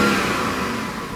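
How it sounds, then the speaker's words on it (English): A 2013 BMW 750Li xDrive engine, suffering MAF sensor and injector seal faults, held at raised revs, a steady dense mechanical roar that eases slightly, close and loud with no voices. "you rev it up"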